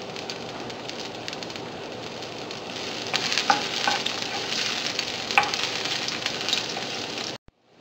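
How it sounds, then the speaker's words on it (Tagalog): Garlic sautéing in a cooking pan for a vegetable dish, giving a steady, dense sizzle for about seven seconds with a few sharper crackles and pops near the end before it cuts off abruptly. "igigisa na natin yung garlic at yung onion"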